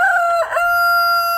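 A backyard rooster crows close by, its loud, sustained, strongly harmonic call carrying through the whole moment with a brief rough break partway through.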